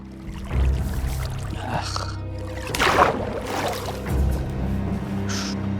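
Water splashes in the Minecraft video game, a few short, soft splashing bursts spread through the clip under and between talking voices.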